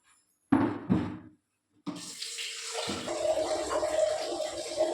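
Two dull knocks, then water pours steadily into a container nearby, the gushing stream filling it continuously until the end.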